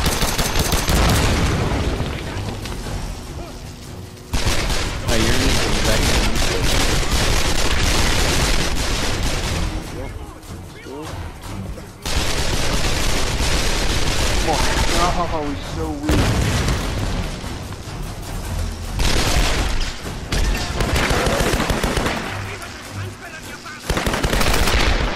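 Gunfire and explosions in the Tomb Raider video game: dense, loud bursts of rapid shots and booms nearly continuous throughout, with a player talking over the action.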